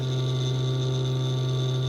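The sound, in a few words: cooling fan of LED headlight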